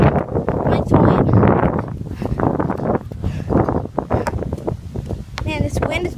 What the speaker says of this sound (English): Man, this wind is blowing like crazy.